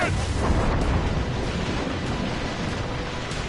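Ship cannons boom in a naval battle video game, a dense, continuous roar of broadband blasts with rumbling low end and no clear gaps between shots, loud and sustained throughout.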